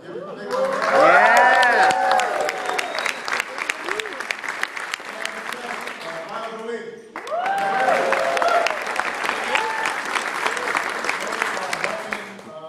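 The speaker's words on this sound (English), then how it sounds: "Chef Pepin, give it a big round of applause." Audience applause at an event introducing President Obama, a loud, dense clatter of many hands that swells, dips briefly, then surges again, with some cheering mixed in.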